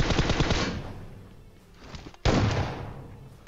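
Gunfire in PUBG Mobile, a dense, loud volley of rapid shots that fades out, then a sharp sudden blast followed by another rolling stretch of fire, with no talking.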